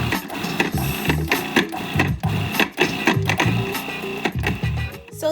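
A food processor pulses chopped mushrooms and walnuts in short repeated mechanical bursts with brief gaps, loud and close, with no talking.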